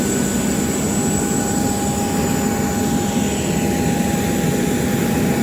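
A fixed-wing airplane in flight gives off a loud, steady engine roar and broad rushing noise with constant droning tones, unbroken throughout.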